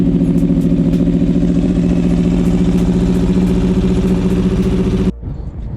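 An Aprilia RSV4 motorcycle engine running, a loud, steady, throbbing mid-low drone held close for about five seconds before it cuts off abruptly, leaving a quieter low rumble.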